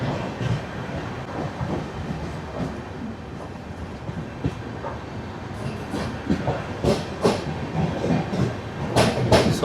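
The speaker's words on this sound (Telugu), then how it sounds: "కోడూరుకి మన ట్రైన్ ప్లాట్ఫామ్ 2కి అయితే వచ్చింది" Chennai–Mumbai LTT SF Express, train 12164, at platform 2 of Koduru station: a steady rumble and clatter of rolling coaches with sharper rattles and clanks growing louder toward the end.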